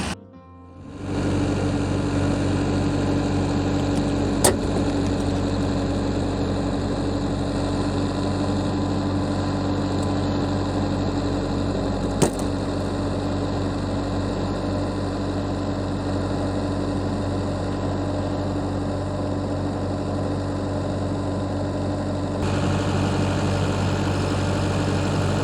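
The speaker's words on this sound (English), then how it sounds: "I'm gonna hook up to the skid steer and just try to brute force it out" Skid steer engine running steadily under load while pulling a chain to force a clog free, a continuous low, heavy diesel drone with harmonic hum and no talk, holding even throughout with a couple of brief clanks.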